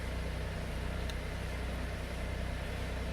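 A tractor engine runs beside a pond being drained and dredged, a steady low idling drone with faint rhythmic throb, constant and fairly quiet throughout.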